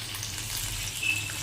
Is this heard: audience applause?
no